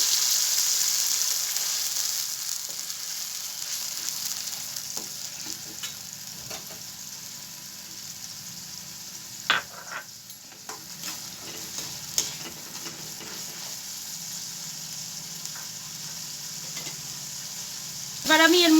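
Whole garam masala, a bay leaf, and tomato, ginger and green chili paste fry in oil, giving a steady hiss and sizzle with occasional stirring scrapes and clinks; a voice speaks briefly.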